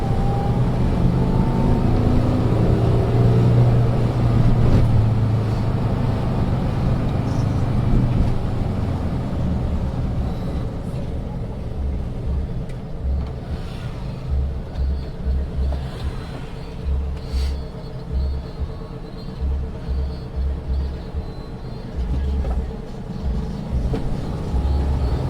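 A heavy Volkswagen T2 split-screen or bay-window van with a 1.6 litre engine drives in first, then shifts into second, a loud low engine drone that drops and then settles into a rougher, pulsing rhythm.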